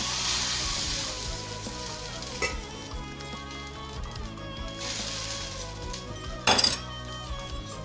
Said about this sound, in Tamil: அதில் அப்பம் ஊற்ற போகிறேன்.